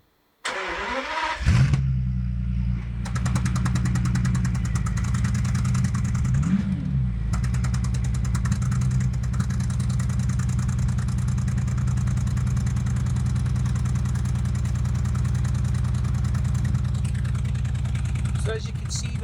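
A 2008 Bentley Continental GT engine cranks and starts, then idles steadily with a misfire on the left bank. The loud, close mechanical hum runs continuously, and a voice talks over it.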